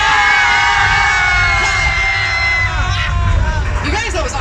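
A tour tram crowd at Universal Studios Hollywood screams together on cue, imitating a disaster-film scream; a loud, sustained wall of mixed shrieks, yells and whoops rises and falls, with cheering near the end.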